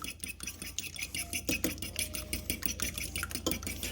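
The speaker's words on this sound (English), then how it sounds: "All right, we're gonna whisk it together. Yep, whisk it." A whisk clatters rapidly against a bowl of venison chorizo taco ingredients in a quick, uneven rhythm with faint metallic clinks, close up and without speech.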